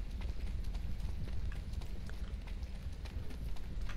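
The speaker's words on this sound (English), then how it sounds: "That was a horse." Hooves of a galloping horse in a video game patter rapidly and evenly, fairly faint and mixed with a steady low rumble of game ambience, no talking.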